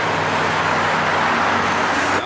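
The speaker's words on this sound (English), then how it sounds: "Y'all can hear the cars going by." Cars stream past along the Malecon seaside road in Santo Domingo early in the morning, a loud, steady roadway roar of nearby traffic with no break or talk.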